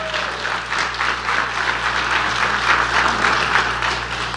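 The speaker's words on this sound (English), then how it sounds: "Let's give a round of applause for our police department." Audience at a public meeting on the Elm and New Orleans revitalization plan applauds the police department, a steady, dense clapping that holds evenly throughout at moderate loudness with no talk over it.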